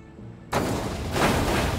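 A sudden loud explosion in the video game Destroy All Humans! remake cuts in after a quiet moment, followed by a sustained roaring rumble that swells slightly toward the end.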